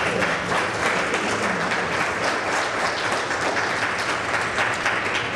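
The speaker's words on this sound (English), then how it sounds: "let's give all of them another round of applause." Audience applause at an international fatherhood conference in Memphis, a steady wash of many hands clapping throughout, moderately loud and continuous without any speech on top.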